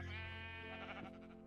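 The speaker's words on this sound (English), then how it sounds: "kill this fucking sheep here, fucking get it, get a sheep" Sheep bleating in the Minecraft video game, a single sustained synthetic bleat, clear and alone with no talk over it.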